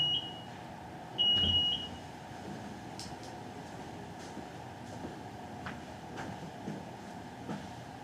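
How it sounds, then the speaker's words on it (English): A home security alarm keypad emits two short electronic arming beeps, a brief tone near the start and a longer one just after, followed by quiet room tone with faint ticks. "So I have 15 seconds to leave the room without triggering the alarm."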